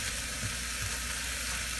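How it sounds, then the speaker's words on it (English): Sausages sizzling in a frying pan while being stirred, a steady close hiss with a couple of soft scrapes. "Do a little stir on this again."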